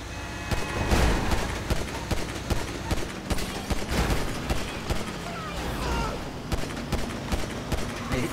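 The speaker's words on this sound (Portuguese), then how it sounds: "Não sei se eu posso atirar, vou meter bala" GTA V gunfire rings out in repeated sharp shots at an uneven rhythm, close and loud, mixed with game voices and a player talking over the action.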